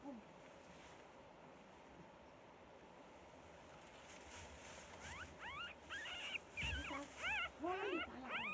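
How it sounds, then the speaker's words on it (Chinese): Young wolfdog hunting dogs whimpering, with high, rising whines that start halfway through and come in quick bursts over a steady noisy outdoor background. "小狼狗啊，大家看一下，"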